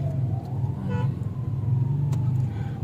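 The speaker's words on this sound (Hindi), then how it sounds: "लाहौर में ट्रैफिक बहुत होती है।" Busy city traffic in Lahore, Pakistan: a steady low rumble of passing cars fills the clip, with a faint siren-like wail drifting through and a brief horn toot, heard at moderate distance with no talking.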